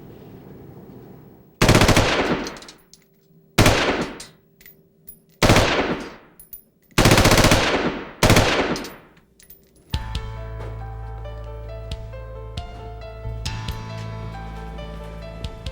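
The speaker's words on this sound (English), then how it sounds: "To see if a particular gun had been used in a crime, a ballistics expert test fires it." A ballistics expert test fires a gun, five loud, sharp gunshots spaced about a second apart, each with a short ringing decay, followed by a steady mechanical hum with faint clinks.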